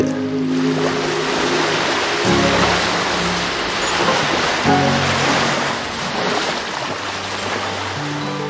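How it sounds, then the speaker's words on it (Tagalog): Ferry crossing the open sea toward Siquijor port, with a steady broadband rush of waves and wind over a low, droning engine hum that shifts in pitch now and then; no voices. "Sakay na tayo sa ating ferry papuntang Siquijor."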